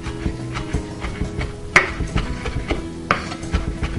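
Fresh rosemary leaves, stripped from the stem, chopped with a knife on a cutting board: a run of close, uneven wooden taps and knocks with a couple of sharper hits and no voices.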